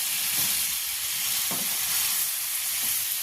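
Spice paste sizzles softly in a pan with a splash of water added while it is cooked down for a fish kachuri filling, a low continuous hiss with a few faint stirring scrapes.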